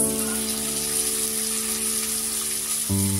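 Vegetables such as beans, carrots and potatoes hitting onions frying in a pan for chicken pish pash, a steady bright sizzle throughout that swells slightly near the end.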